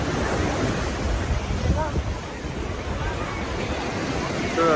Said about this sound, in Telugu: సముద్రంలో